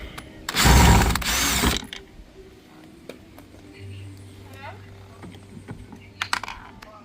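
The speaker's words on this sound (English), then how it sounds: "Alright, so first we have to get out this screw." Removing a screw from a Honda Fit interior door panel: a loud burst of ratcheting, mechanical clicking up front, then quieter scattered clicks and handling noises over a low steady hum.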